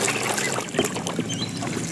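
Toy motorcycle being rinsed with water: a continuous splashing spray and trickling up close, fairly loud and steady for the whole stretch.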